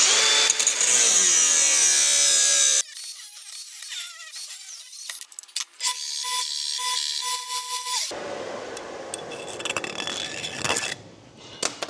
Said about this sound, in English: I'm gonna have to cut the leg length off of this bend right down to the wire